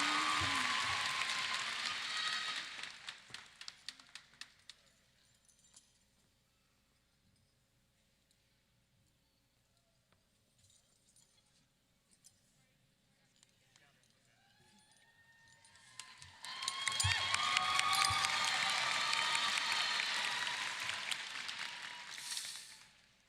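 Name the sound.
applause and cheering for the senior class president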